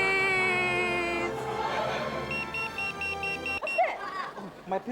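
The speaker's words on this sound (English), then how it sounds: "My pill alarm." A repeated electronic beep, steady and evenly spaced, sounds over busy background noise and music-like tones, then fades as other sounds take over.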